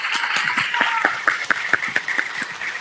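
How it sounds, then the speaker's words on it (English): An audience at an AI Hardware Forum panel session of a tech summit claps in a brief round of applause, a dense patter of hand claps with a few sharper, louder claps standing out near the end. "Let's give them another applause."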